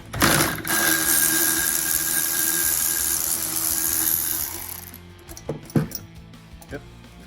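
A hand ratchet with a triple square bit on an extension loosens a bolt during a hybrid turbo install on an Audi B9 S5; a sustained close mechanical whirring and clicking runs for several seconds, then a few sharp clanks follow.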